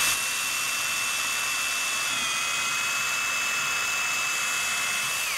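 A power drill whines steadily as it drives into a wooden bench board during a beginner woodworking build, giving one sustained, loud high-pitched motor tone whose pitch dips slightly partway through.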